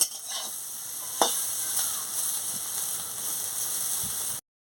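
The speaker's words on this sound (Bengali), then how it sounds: "এবার আমি ভালো করে ভেজে নিচ্ছি" Bitter gourd frying in a pan, a steady broadband sizzle with a few sharp scrapes as it is stirred, one louder clack early on, no voices.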